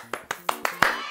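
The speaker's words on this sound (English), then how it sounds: "You deserve a round of applause this way." Hand clapping for a child during a home learning session, five distinct claps in a slow, even rhythm, close and clear.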